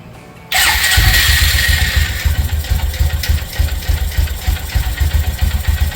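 An Arctic Cat Prowler 500 engine, just back together after a jumped-timing repair, cranks and catches within a second, then settles into a loud, close, pulsing idle with a steady rhythmic throb.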